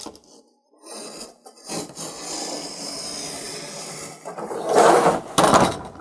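A utility knife slices along the edge of stretched watercolor paper on a mounting board, giving a close, raspy scraping that starts quietly, runs steadily for a few seconds, then ends in two louder strokes.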